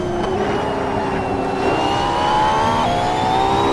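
A Lamborghini engine in a racing video game at Laguna Seca drones steadily with rising revs and quick gear changes, loud and continuous without pause.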